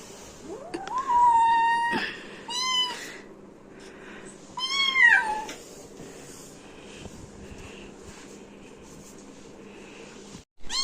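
A kitten kept in a cage meows loudly several times in separate calls, with quiet pauses between them and faint background noise.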